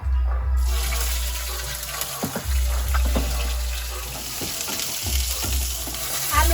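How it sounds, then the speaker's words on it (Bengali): Nigella seeds and green chillies fry in oil in a wok, producing a dense, close, continuous sizzle with a bubbling, watery texture and a low background hum. "কড়াইতে তেল দিয়েছি, তেলের মধ্যে দিয়ে দেবো একটু কালো জিরে আর কাঁচা লঙ্কা।"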